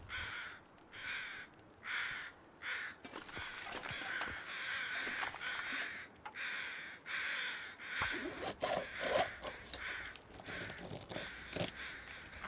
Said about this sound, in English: we summoned the crows in a good way today